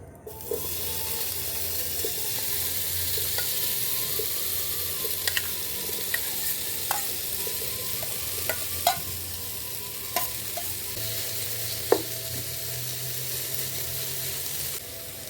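Paneer sizzles steadily in hot sunflower oil in a pan, a constant bright frying hiss broken by a scattering of sharp scrapes and clicks as the pieces are stirred and turned, with no talking.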